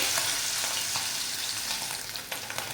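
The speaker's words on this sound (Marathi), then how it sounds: "आता असंच आपण सर्व पनीर छान असे परतून घेऊया" Paneer cubes frying in a pan, a loud close crackling sizzle with light stirring scrapes throughout, no talking.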